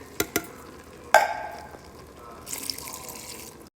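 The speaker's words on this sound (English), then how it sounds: "Dump in your corn with the water." Canned corn with its water splashes into a soup pot with a couple of sharp clinks, followed by a brief wet sloshing before it stops.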